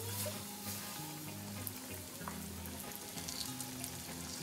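Chicken wings fry in hot oil for Asian-style fried chicken, giving a steady, close, dense sizzle and crackle that runs unbroken throughout with no talking.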